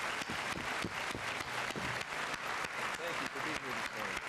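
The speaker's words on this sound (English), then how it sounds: "Let's give these people a nice round of applause" A school senior assembly audience applauds, steady dense clapping from a large crowd with faint voices mixed in, fairly distant and soft.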